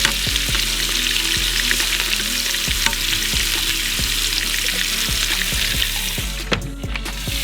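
Wild hog pork pieces sear and char in a hot pan, a steady loud sizzle running throughout with repeated sharp clacks of the meat and utensil against the pan, and no talking.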